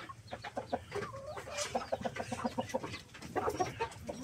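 Rhode Island Red heritage chickens clucking quietly in a backyard coop, a string of soft, rapid clucks and short calls with brief pauses, close by and without talk.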